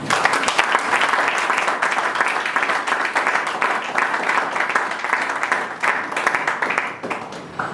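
A church congregation breaks into sustained applause and clapping to acclaim Jesus, a dense, steady roar of many hands that stays loud throughout, with a few voices faintly mixed in.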